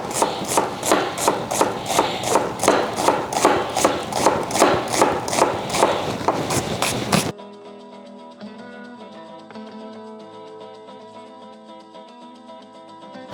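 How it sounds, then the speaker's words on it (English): A knife slices onions into thin slices for jackfruit tinga, a street food quesadilla, with steady rapid strokes in an even rhythm for about seven seconds before the cutting stops and only quiet background remains. "we're just gonna slice some onions. We need some really thin slices."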